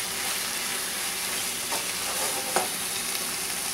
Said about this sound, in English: And then we're going to give it a nice stir.